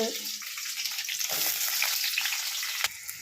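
Ginger, garlic, onions and green chillies fry in a pan for an egg masala curry, a close, continuous sizzle with light crackles and a brief stir or clink near the end.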